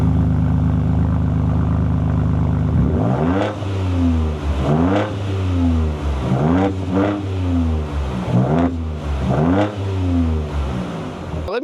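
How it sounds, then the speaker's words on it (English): A 2024 Ford Ranger Raptor with dual exhaust, idling at first and then revved hard several times in a row, each rev climbing and falling back, loud and close with no talk. "We're gonna get that dual exhaust with the old Raptor there, and well, it sounds fantastic."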